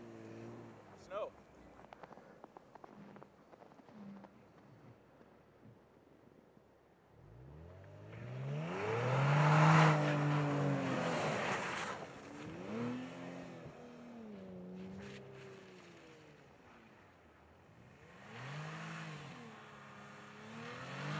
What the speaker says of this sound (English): Oh yeah, he's drifting the whole way.